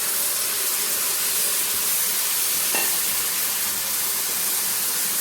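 Jaggery syrup poured into a pan of cooking jackfruit for a sweet jackfruit preserve gives a steady, broad sizzling hiss that holds at an even level throughout, with a brief brighter catch partway through.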